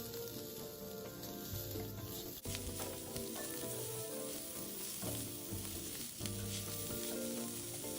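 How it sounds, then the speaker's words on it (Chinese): Onions stir-frying in a pan with preserved radish and egg, a continuous loud sizzle and crackle with spatula stirring and scraping, no talking. "这时候再将备好的洋葱加入，一起拌炒。"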